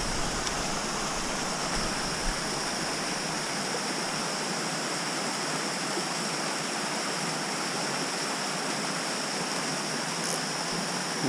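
Steady rushing roar of a backcountry waterfall pouring into a stream, a dense continuous wash of falling water that stays loud and even throughout, with no voices over it.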